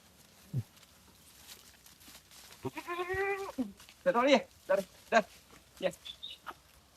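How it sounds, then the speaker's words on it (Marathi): A native village goat bleats several times close by on a free-range goat farm in Rajapur, Konkan, short wavering cries coming in quick succession. "ती एक शेळी आहे, ती गावठीच आहे."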